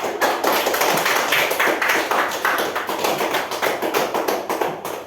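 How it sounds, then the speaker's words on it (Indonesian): A classroom of students claps for a group that has just presented, a brisk, fairly loud burst of many hands with a pulsing rhythm, sustained for several seconds. "Tepuk tangan untuk mereka 3"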